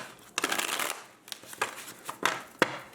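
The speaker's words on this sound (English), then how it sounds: "Let's do one more shuffle." Tarot cards are shuffled close up in a short riffle-like burst, followed by several separate crisp card slaps and flicks spaced irregularly, with no talking.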